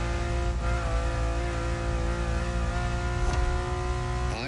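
A Ferrari engine in a video game, The Crew Motorfest, hums steadily at high revs with a rich, layered tone, rising at the very end, heard loud and close from inside the car.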